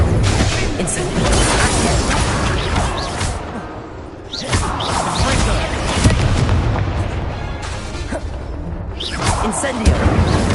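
Incendio fire spells cast in Hogwarts Legacy, a dense run of whooshing, crackling bursts and booming impacts that come in repeated waves across a loud, busy combat mix.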